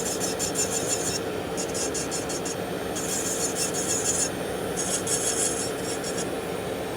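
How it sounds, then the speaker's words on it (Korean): Thick ingrown toenail being ground down with a small rotary tool, a high, buzzing rasp that comes in repeated short bursts over a steady background whir, close and continuous. "이제부터는 끝에서 한 번씩 조금씩 이렇게 갈면서 들어가면서 보는 거예요."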